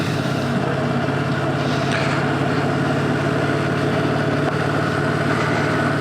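An R25 motorcycle engine runs steadily at close range while riding, a constant droning motor hum with wind noise and no pauses.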